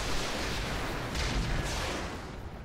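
Mech weapons firing acid ammunition in the Roguetech battle game boom out as a loud, rumbling barrage with a heavier burst in the middle, fading toward the end.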